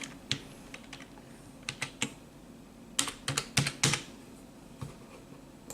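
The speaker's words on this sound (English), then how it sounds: "Just type out your name." Typing on a computer keyboard, scattered single clicks at first, then a quick flurry of close keystrokes, with quiet gaps between the taps.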